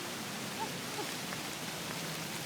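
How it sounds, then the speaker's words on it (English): Rain keeps falling after a hailstorm in Sacramento, a soft, uniform wash of drops with no distinct impacts, quiet and continuous, with no talk. "Yeah, this is less hail, more rain at this point."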